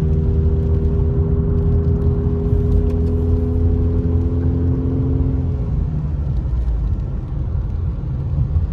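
A Subaru Crosstrek cruising on a wet road during a humid Big Bear thunderstorm, giving a steady close engine and tire drone with a whirring tone that fades after about six seconds into a lower road rumble.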